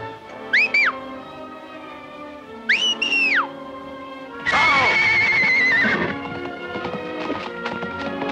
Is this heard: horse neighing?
yes